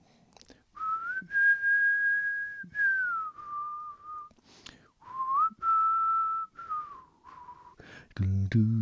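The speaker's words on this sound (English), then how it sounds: "A whistled, happy whistled theme at the start, and then just goes into something much darker and heavier." A lone whistler carries the cheerful theme tune of Kolchak: The Night Stalker, clear sustained notes gliding between pitches with short breaths between phrases, ending in a burst of low music.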